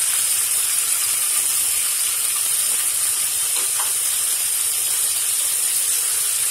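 Potatoes fry in oil in a pan for a koi fish curry, producing a dense, constant hiss of sizzling that stays loud and even throughout, with no talking.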